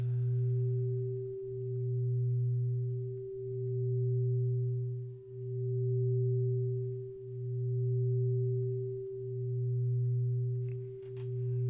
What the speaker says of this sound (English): when one tone goes into my left ear while I'm wearing headphones, and another tone goes into my right ear while I'm wearing headphones